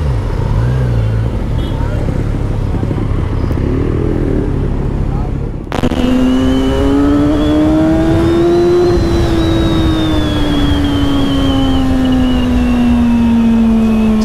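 Kawasaki Z1000SX motorcycle engine riding through a tunnel, a loud, steady drone that swells and rings with reverberation after entering, holding a strong sustained pitch with engine and road noise throughout.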